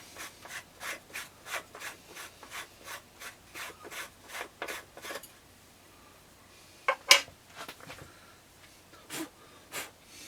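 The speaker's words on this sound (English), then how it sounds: "We'll unscrew the protective lens." Protective lens being unscrewed from a Kaisi TX 350e microscope, a run of quick, regular dry rubbing twists close by, then a pause, a sharp click and a few further scrapes.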